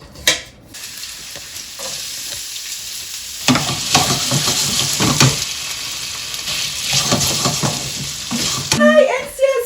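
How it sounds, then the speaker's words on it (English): Potatoes and eggs fry in olive oil in a pan, with a low continuous sizzle broken by repeated bursts of stirring and scraping, close by, ending with a brief clatter. "When it's soft, we cracked 2 eggs in it."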